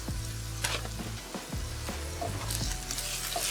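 Turmeric and chili powder are stirred into a frying potato curry, a loud, dense sizzle with a few scraping spoon strokes across the pan.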